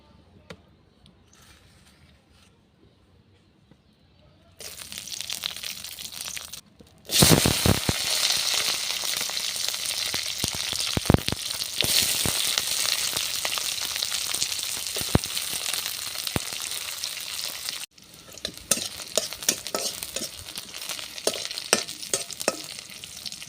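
Chilies, garlic and fish fry in mustard oil in a pan on a village clay stove. A faint start gives way to a loud, continuous sizzle with sharp crackles and pops, heard alone without talk.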